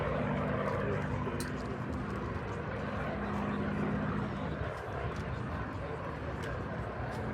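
An airplane flies over the Farnborough Airshow in England, a faint, continuous engine drone heard from a distance beneath people chatting nearby.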